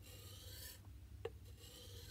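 A small metal M16 trigger part is rubbed back and forth on fine sandpaper, giving a quiet, steady rasping scrape with one brief sharper tick midway.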